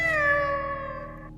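A house cat gives one drawn-out, tonal meow that fades slowly, close and clear with nothing else around it.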